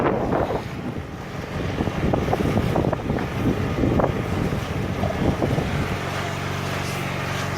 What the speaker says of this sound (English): The wind directly on the nose, coming down the channel